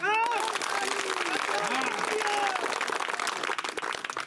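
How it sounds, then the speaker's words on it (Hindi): Rally crowd at a Lok Sabha election public meeting in Sonera, Ashoknagar, applauding in a dense, sustained burst of clapping with shouts and voices mixed throughout. "बस लगाओ ताली"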